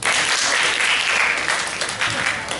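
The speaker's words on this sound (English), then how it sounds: "Could you clap?" An audience at a teen workshop session claps on request, a loud, dense burst of applause close by that carries on steadily and then thins slightly toward the end.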